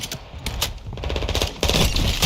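Rapid bursts of gunfire in a zombie shooter video game crackle in quick, uneven volleys, loud and close, growing denser toward the end.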